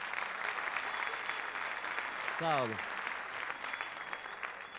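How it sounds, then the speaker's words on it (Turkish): Studio audience at a televised Popstar competition applauds steadily throughout, with a single voice speaking briefly in the middle over the clapping. "Tüm Üç Maymun filminin ekibini ve özellikle de Nuri Bilge, Ce Bilge Ceylan'ı bir kez daha alkışlayalım isterseniz."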